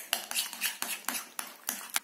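A spoon stirs an herb mix of oregano, herbes de Provence, basil and pepper in a bowl for brushing onto pizza, making rapid, close clinks and scrapes of metal on the dish in a brisk, uneven rhythm.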